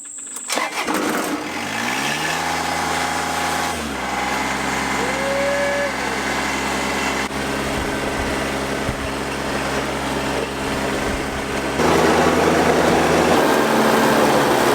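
A Kubota mower engine cranks and catches, then settles into a steady, fairly loud running drone that holds for the rest of the stretch and steps up slightly in intensity near the end.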